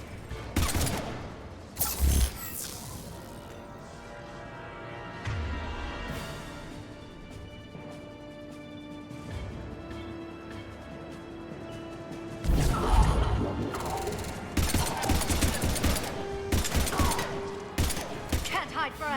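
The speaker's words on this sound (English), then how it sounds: "we were in the middle of a gunfight" Bursts of gunfire and sharp impacts ring out during a firefight in the video game Mass Effect 2, loud at the start and again near the end, with a musical drone and voices between.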